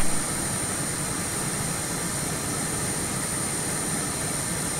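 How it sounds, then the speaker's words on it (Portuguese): Aircraft auxiliary power unit running in Microsoft Flight Simulator 2020, a steady loud turbine roar with a high whine, constant throughout with no talk. "APU é o motor da aeronave"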